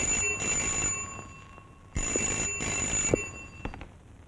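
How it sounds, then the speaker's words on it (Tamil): A telephone rings in two bursts with a pause between, bright trilling bell tones, followed by a couple of faint clicks. "மணி அடிக்குது, போன்."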